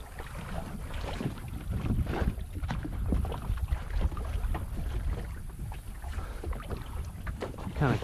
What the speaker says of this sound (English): Getting this boat out in enough water to where it'll float.